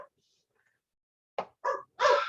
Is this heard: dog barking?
yes